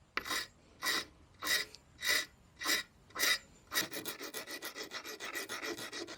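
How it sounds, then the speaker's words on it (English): A metal file rasps against the end of a small panel pin being sharpened, in six slow, separate strokes followed by a faster run of short, rapid strokes, close and fairly loud with no talking. "So I've got to sharpen this end. You can use a file to do that"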